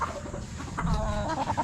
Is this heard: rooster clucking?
yes